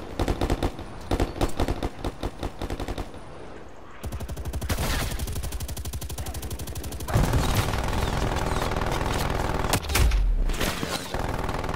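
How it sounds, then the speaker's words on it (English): Hostile sentry turret in Call of Duty Cold War firing long automatic bursts of rapid gunfire, loud and close, with brief pauses between rattling volleys and heavier thuds near the end. "Hostile sentry turret active."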